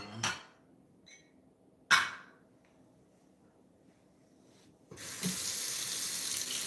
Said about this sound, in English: I'm just rinsing this out. It had some vanilla in it, vanilla extract.